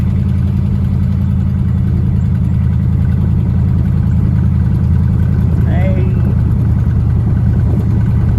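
The engine of a 1955 Buick car runs while it drives along, a loud, steady low hum with no breaks, and a voice speaks briefly over it near the middle.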